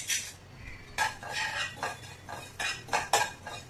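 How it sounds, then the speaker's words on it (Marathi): White sesame seeds are stirred as they roast in a hot iron kadhai, with a spoon scraping and clinking against the pan in short, irregular strokes; the sound is quiet and close. "त्यामध्ये आपण सफेद तीळ भाजून घेऊया।"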